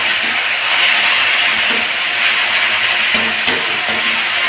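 Garlic paste hits hot oil in a Bengali curry pan and gives a loud, steady sizzling hiss that fills the whole moment without letup, with a few faint clicks beneath it.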